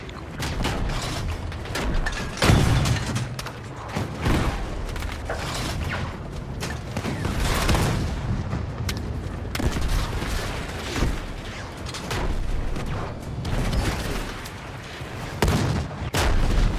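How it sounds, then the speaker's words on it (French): Tanks fire on the player in Battlefield 6: loud, dense bursts of cannon and gunfire booms with rumbling explosions, continuous through the whole stretch. "j'ai deux tanks qui me tirent dessus"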